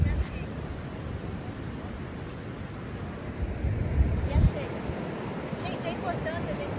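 Surf washing onto a beach among rocks in Atlantic forest near Guarujá, a steady broadband wash with a louder surge midway, mixed with wind noise on the microphone.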